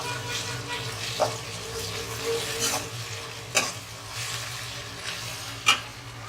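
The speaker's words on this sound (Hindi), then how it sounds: "प्याज हल्की पिंक फ्राई हो जाए तो फिर आप इसमें गरम मसाला ऐड कर दीजिए।" Onions fry with garam masala for a chicken tikka biryani, a constant close sizzle broken by several sharp scraping stirs of a spoon in the pan, with no one talking.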